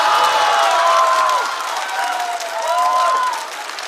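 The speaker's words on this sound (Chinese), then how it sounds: "掌声再次送给王冕" Audience applause for Wang Mian at a stand-up comedy show opening, a steady, dense clapping wash lasting the whole moment, mixed with sliding tonal sounds and easing slightly toward the end.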